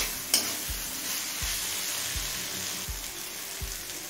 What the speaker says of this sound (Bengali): এবার মিডিয়াম ফ্লেমে চিকেনটা ভালোভাবে কষিয়ে নেব